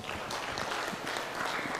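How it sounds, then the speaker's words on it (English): Audience applause at an ICT clubs award ceremony, a steady dense wash of many hands clapping at even loudness throughout, moderately distant and without speech. "Let's give a round of applause."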